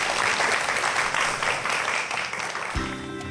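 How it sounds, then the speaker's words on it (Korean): A lecture audience applauds a professor's science talk on biomimetics, a dense, steady wash of many hands clapping that fills the room, with a tonal sound entering near the end as it fades. "박수 부탁드리겠습니다"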